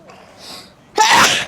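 A single close, loud sneeze with a short breathy intake before it, at a family birthday gathering in a park.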